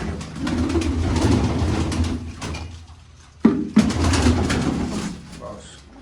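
Pigeons coo in low, throaty bursts close by, with a couple of sharp knocks partway through and a faint voice.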